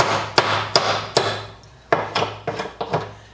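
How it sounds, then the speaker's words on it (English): A lightweight hammer strikes wood about eight times in an uneven rhythm, each sharp close knock ringing briefly, with a short pause partway through. "It is an amazingly light hammer."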